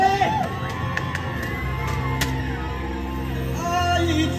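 An outdoor summer concert crowd in Dadu, Taichung cheers, whoops and applauds in a dense, steady roar, with a few sharp shouts rising above the hubbub.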